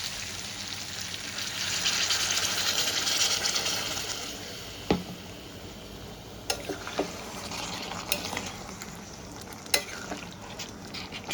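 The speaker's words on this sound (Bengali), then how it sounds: "পরিমাণ মতো আমি জল দিয়ে দেব।" Water is poured into a pan of raisin chicken as it cooks. A loud hiss and sizzle comes first, then fades to a lower simmer with a sharp clink and a few scattered scraping knocks from stirring.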